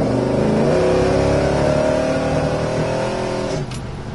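A 1967 Pontiac GTO fitted with Flowmaster mufflers gives a steady, deep engine rumble that stays loud and close, then eases slightly near the end. No one speaks.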